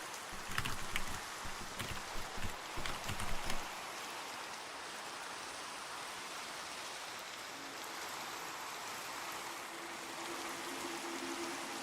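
Steady rain in the Minecraft video game, a continuous even hiss of falling drops. A few louder bumps of other game sounds come near the start, then the rain carries on alone.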